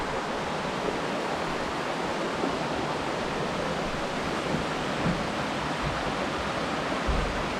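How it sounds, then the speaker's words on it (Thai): A forest stream flowing beside a homestay in Chiang Dao, Thailand, a steady close rushing of water with no voices. "วิวด้านหน้านี่เป็นลำธารเลยนะคะทุกคน"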